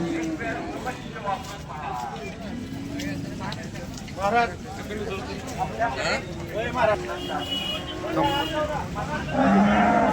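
Cows low and moo at moderate distance amid a busy outdoor crowd at the Sangola cattle market, with people talking throughout.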